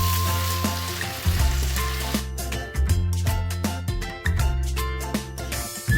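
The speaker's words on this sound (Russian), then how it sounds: "и все вместе пережариваем" Chopped vegetables and tomatoes sizzle as they fry together in a pan for a thick seafood fish soup, with a steady crackling hiss under low-pitched stirring bumps and clatter.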